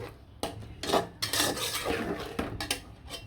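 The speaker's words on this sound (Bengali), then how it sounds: "মাছটা লাড়াচাড়া দিয়ে দিলাম মশলার সাথে যেন একদম সুন্দরভাবে কষানো হয়ে যায়" Snakehead fish being stirred with spices in a pan, a run of scraping and clinking of a utensil against the metal, steady and close with brief pauses between strokes.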